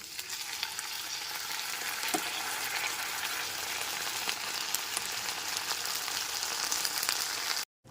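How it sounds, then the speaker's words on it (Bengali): Boiled urad dal being stirred in a pan over a low gas flame with ginger paste, a steady broadband sizzle and scraping running evenly throughout, fairly loud and close, no voices. "সমস্ত বিউলি ডালটা দেওয়ার পর খুব ভালো মতো একবার নাড়াচাড়া করে নিচ্ছি"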